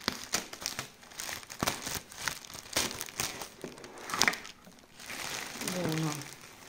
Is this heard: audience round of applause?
no